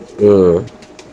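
A pigeon at a racer pigeon farm gives a single loud, close coo lasting about half a second, followed by a few soft faint sounds in otherwise quiet surroundings.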